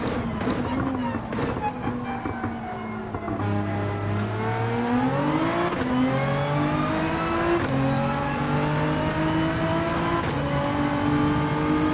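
Porsche 911 racecar engine in the video game Gran Turismo 7, a loud continuous engine note climbing through repeated gear shifts as the car accelerates, with steady road and tire roar underneath.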